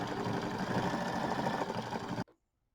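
An embroidery machine stitches a mini quilt design, a loud, steady rhythmic whirring and needle tapping that runs continuously, then stops sharply with a brief clunk before near silence.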